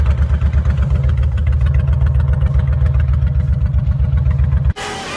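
A vehicle engine running after a cold start at minus 30 degrees, a steady low rumbling idle with a pulsing rhythm, close and loud, then cutting off sharply near the end as a different noise takes over.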